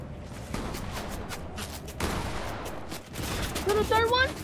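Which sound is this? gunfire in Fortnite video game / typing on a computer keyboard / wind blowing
gunfire in Fortnite video game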